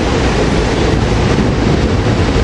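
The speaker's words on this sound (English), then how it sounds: "we got the Trenton train with Railcars 413," SEPTA Trenton train made up of railcars 413, 362 and 363 rolling past, a steady, loud, broadband rumble and rush that holds even throughout without distinct clatter.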